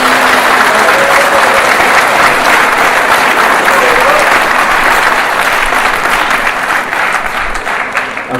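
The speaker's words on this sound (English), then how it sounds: "let's have one more big round of applause for our new members" A loud, dense ovation at a high school National Honor Society induction for the new members, sustained crowd clapping that stays strong and only eases slightly at the close.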